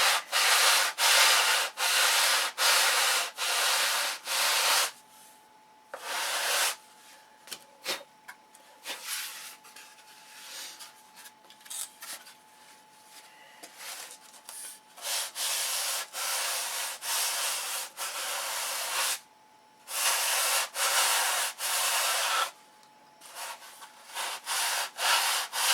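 Sandpaper rubbing over a wooden stabilizer for a control line Thunderbolt model plane, steady rasping strokes in long bursts with brief pauses between, close and fairly loud.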